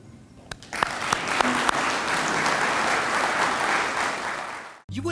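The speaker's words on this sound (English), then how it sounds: "let's give him the applause" Audience applause at a distinguished citizen luncheon, a dense, steady wash of many hands clapping for about five seconds, moderately loud and even, cutting off abruptly near the end.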